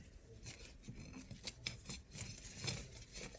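Scissors snip repeatedly while flowers are being trimmed and arranged, several short, fairly quiet cuts at an irregular pace with faint rustling between them.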